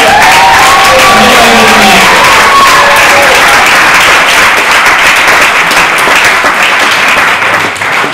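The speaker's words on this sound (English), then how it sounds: "lovely big round of applause for your groom." Loud, full applause for the groom at a wedding reception, with scattered whoops and cheers rising early on before settling into sustained clapping that thins slightly near the end.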